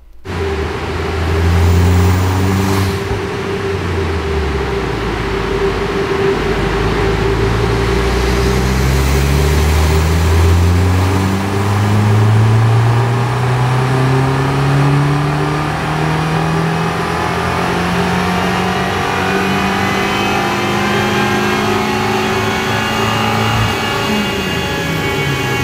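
An Abarth car with a Stage 1 tune and new downpipe revs hard on a dynamometer, its engine note climbing steadily through the gears, loud and close, with no talking.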